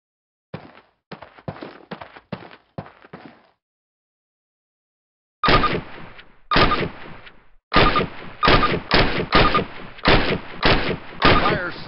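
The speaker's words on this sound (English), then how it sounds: "Approach the fence and fire 6 rounds at your target." Rifle shots fired at a range target in Call of Duty: World at War, a video game, ring out as sharp, loud, close reports, first a quick burst of six, then a pause, then another run of evenly spaced shots.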